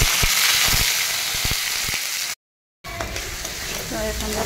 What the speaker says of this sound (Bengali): তো ফোড়ন দেওয়ার জন্য এখানে দেখো কী কী নিয়েছি, এলাচ, লবঙ্গ আর একটা তেজপাতা